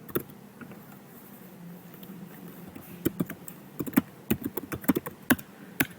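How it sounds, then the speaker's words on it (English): Fingers typing a new password on a computer keyboard, a quiet patch with a few taps giving way to a quick, irregular run of crisp key clicks, close and fairly soft. "I'm putting in my new password and I'll log in"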